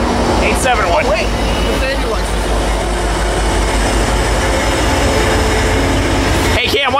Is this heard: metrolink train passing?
yes